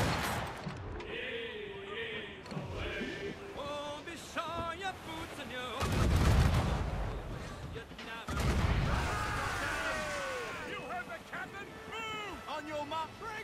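Ship cannons firing in a naval battle in Assassin's Creed Rogue: heavy booms land around six and eight seconds amid wind and sea noise, while crew members shout orders over the action.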